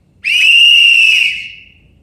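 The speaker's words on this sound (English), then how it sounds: "We call foul and blow our whistle." One whistle is blown in protest in a single sustained, shrill blast lasting about a second, then fading, alone against a quiet background.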